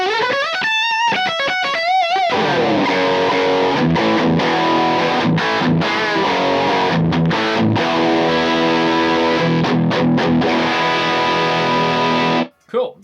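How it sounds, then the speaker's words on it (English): An electric guitar played through a Kemper with a Tube Screamer overdrive pedal delivers distorted, sustained riffs and chords, loud and continuous, with a brief pause near the end. "So I'm going to now put a tube screamer on."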